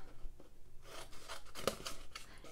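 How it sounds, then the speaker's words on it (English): Scissors snipping through paper while trimming a card: a run of short, quiet crisp cuts in an uneven rhythm, close by, with no talk over them. "go up with your scissors"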